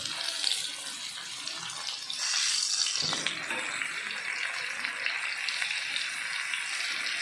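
Fish fries in hot oil on a pan, a soft broadband hiss and spatter that swells briefly midway before settling back to a quiet, steady sizzle.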